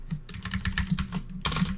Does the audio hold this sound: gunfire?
no